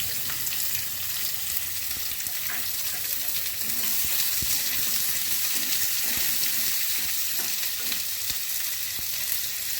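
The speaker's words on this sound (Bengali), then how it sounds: "এবার আমি পেঁয়াজ দিয়ে দিচ্ছি।" Onions and potatoes frying in a pan for a potato and cauliflower curry, with a constant, hissing sizzle and occasional faint stirring taps, close and moderately quiet.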